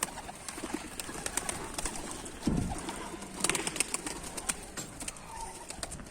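Soft pigeon cooing outdoors amid a steady background hum, with a brief low flutter partway through and scattered faint chirps.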